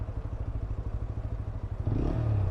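A new TVS 200 motorcycle engine idles with a close, steady, rapid chugging throb, then briefly rises in pitch as it is revved near the end.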